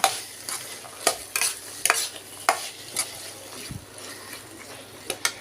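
Cooked rajma kidney beans are stirred into fried masala in a pan, with repeated scraping and clacking strokes of a spoon in an uneven rhythm over a soft background sizzle, close and clear, with no voices.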